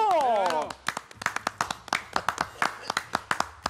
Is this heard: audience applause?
yes